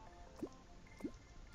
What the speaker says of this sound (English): So we fill up this edge with lava.